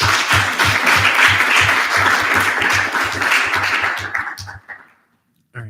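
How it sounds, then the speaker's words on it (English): A student government senate gives loud, sustained applause in a room, with dense clapping over a steady low rhythmic thumping. It tapers off, goes quiet, and a short burst returns at the very end. "Please, can we give them another round of applause?"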